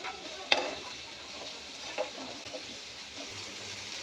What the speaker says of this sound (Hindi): इन्हें 1 से 2 मिनट के लिए स्ट्रेट फ्राई करेंगे